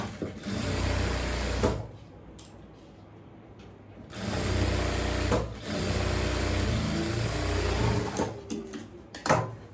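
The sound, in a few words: sewing machine stitching a neck tuck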